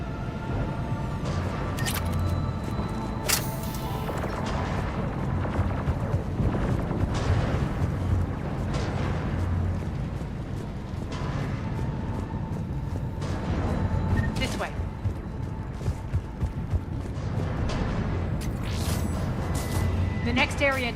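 Booming cannon blasts in the video game Mass Effect 3 thunder repeatedly through a dense, roaring soundscape, with sharp bursts punctuating a constant low rumble.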